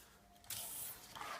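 Lubricant sprays from a can onto the swivel mechanism of a TFK Joggster Twist stroller: a short close hiss, pausing briefly and then resuming.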